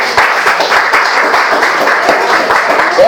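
A church congregation breaks into loud, dense applause that fills the room with a continuous patter of many hands, which keeps going throughout.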